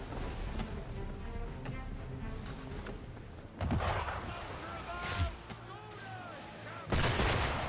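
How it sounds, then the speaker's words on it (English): Gunfire aimed at the player in the video game Assassin's Creed III, with three loud shots or blasts spaced a second or two apart over a busy game background. "Why is he shooting at us?"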